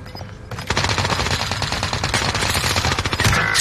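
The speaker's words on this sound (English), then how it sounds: "He's shooting already." Rapid automatic gunfire in a video game, a loud, continuous string of closely spaced shots that starts abruptly after a faint moment and keeps going to the end, with no talk over it.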